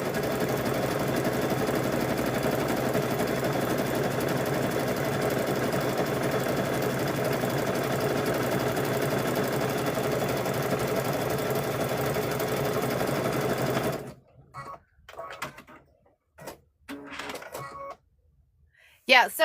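A sewing machine runs a blanket stitch along the edge of quilt fabric, whirring steadily for about fourteen seconds before it stops and a person speaks briefly.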